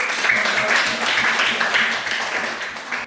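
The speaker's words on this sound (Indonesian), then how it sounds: "Tepuk tangan dulu untuk." A classroom of students applauds a classmate's good answer during a school lesson, a steady, dense patter of many hands clapping together for about three seconds.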